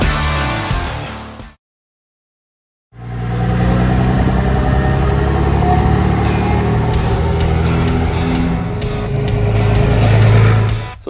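A 1952 Power Wagon fitted with a modern 6.7 liter 24-valve Cummins turbocharged diesel runs with a loud, steady low rumble after a short silence, swelling slightly near the end.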